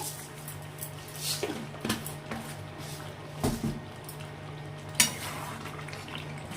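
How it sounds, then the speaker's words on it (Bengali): Food being stirred in a pan during home cooking after a little sugar goes in: soft scraping and clinks of a spoon against the pan over a faint steady sizzle, with a sharper knock near the end, no speech. "আর একটু নাড়াচাড়া করে দিচ্ছি"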